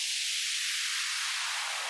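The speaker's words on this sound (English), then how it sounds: "As you can hear as well, I've also added a white noise downlifter," White noise downlifter effect in an electronic track, a loud hissing sweep whose bright noise slides steadily downward in pitch over about two seconds, with faint low bass pulses thumping underneath.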